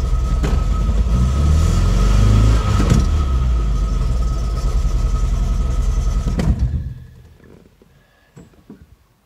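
A running MGB GT engine idles with the clutch pressed down, a steady close rumble for most of the stretch before dropping away sharply near the end, leaving only faint knocks.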